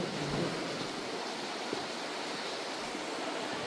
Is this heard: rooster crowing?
no